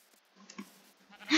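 A sheep in the video game Minecraft gives a short, faint bleat, followed by a louder bleat at the end over near silence.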